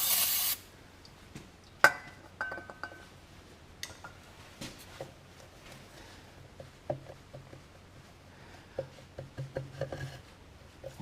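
Brake cleaner sprays in a short hissing burst onto grimy tractor brake parts during a teardown, followed by quiet scattered clinks and rubbing of metal parts.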